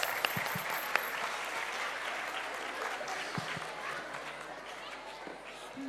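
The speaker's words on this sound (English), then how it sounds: "They deserve a huge round of applause, dear parents." Parents clap at a school annual day after a children's folk dance performance; the applause is a soft, continuous patter with a few sharper knocks and voices mixed in.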